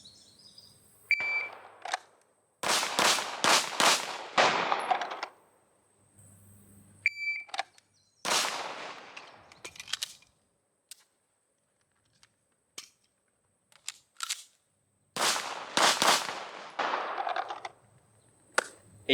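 Pistol shots ring out on a training range in several sharp, loud bursts of rapid fire, separated by quiet gaps and a couple of short timer beeps.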